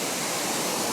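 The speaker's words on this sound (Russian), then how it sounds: "Просто смачиваем водой." Coin-operated car wash rinse spraying water onto a hot, uncooled car engine: a steady, close, loud hiss of spray lasting about a second, with no talking.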